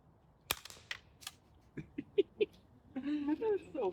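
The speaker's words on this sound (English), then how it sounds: "you get to watch the rounds impact the target" Suppressed .22 LR subsonic rounds fire outdoors as soft muffled pops, with sharp snaps of the rounds striking a target a moment later. A person talks and laughs between the shots.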